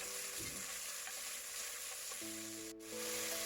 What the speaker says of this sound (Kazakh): Мінекей біздің сұйық майымыз қызды, енді етті қызартып қуырып алатын боламыз.